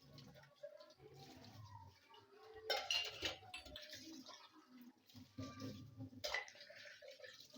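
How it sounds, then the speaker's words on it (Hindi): Dishes are washed in a home kitchen while cooking a chicken and okra dish: clinks of metal pots and utensils knock together amid splashing water, irregular and close, with faint background noise. "मैं साथ साथ बर्तन धो रही थी"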